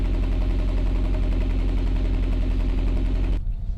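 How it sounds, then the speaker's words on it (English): A Honda Prelude's exhaust idles steadily after a misfire repair, a low, even rumble with regular pulsing that holds constant for over three seconds before cutting off abruptly. "But the exhaust sounds nice and steady."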